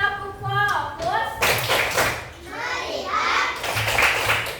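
Children in a classroom clap along during a rhythmic focus-clapping ice-breaker, groups of short claps mixed with the teacher's voice and children's chanting.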